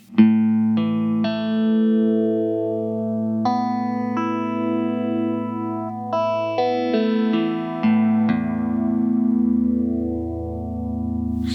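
Sustained electric guitar chords and single notes through a phaser pedal on a slow setting swirl with a slow, wavy sweeping effect, ringing out clearly with no talking.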